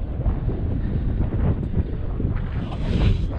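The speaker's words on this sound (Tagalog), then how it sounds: "Dahil ganito kalakas ang hangin" Strong wind at sea roars across a small fishing boat, buffeting the microphone with a constant low rumble and gusty surges. Water sloshes underneath, and no one speaks.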